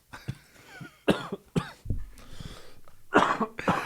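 A person coughs several times in short, sharp bursts with brief pauses between, close and fairly loud, with throat-clearing sounds and no talking.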